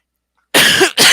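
A single loud, harsh cough breaks the silence, followed quickly by a second cough.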